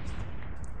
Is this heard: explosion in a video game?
yes